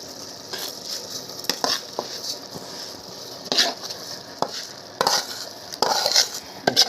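A spoon stirs washed rice, cooked potatoes and coriander together in a cooking pot for masale bhat, giving close scraping and clinking strokes over a faint sizzle.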